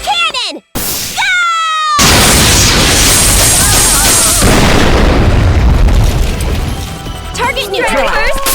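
A Brave Cannon attack in Megadimension Neptunia VII erupts as a loud, sustained booming blast that rumbles for several seconds, following short electronic game chirps and leading into crackling energy sounds.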